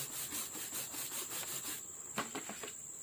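Gasoline-and-soap mixture scrubbed into a bicycle chain, a steady close rasping rub in quick repeated strokes, with a few sharper scraping strokes toward the end.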